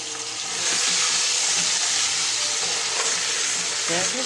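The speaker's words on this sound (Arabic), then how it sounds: "غسلت يدي." A kitchen tap runs while hands are washed during preparation of Saudi kabsa, a steady rushing hiss that starts after a brief quiet moment and continues with a few faint clinks.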